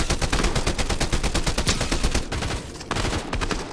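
Rapid automatic gunfire from a Fortnite squads match, loud dense bursts of shots running almost continuously with brief dips near the end, close and unbroken.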